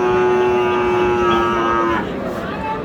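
A cross Friesian heifer at a busy rural cattle market in Dinajpur lets out one long, loud, steady moo that ends abruptly, with crowd noise continuing beneath.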